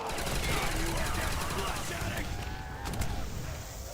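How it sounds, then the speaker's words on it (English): Rapid gunfire from a modded Der Riese Zombies video game, a dense continuous barrage of shots throughout with a person talking over it. "Oh my goodness, I'm shooting so fast!"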